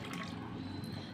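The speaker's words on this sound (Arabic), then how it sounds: "عندي طبق عميق او بولة، هنزل بكوباية مية دافية" Warm water poured from a cup into a deep bowl, a steady close splashing trickle that runs the whole moment without pause.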